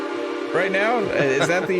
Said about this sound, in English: That's the train from Back to the Future 3.